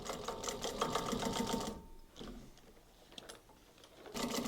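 A sewing machine stitches fingers onto a leather archery glove in rapid, even mechanical bursts, stopping briefly midway and then resuming, close and fairly quiet.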